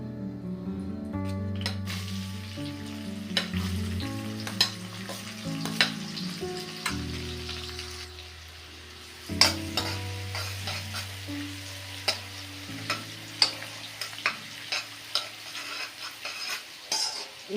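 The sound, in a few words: onions frying and being stirred for soya chunks gravy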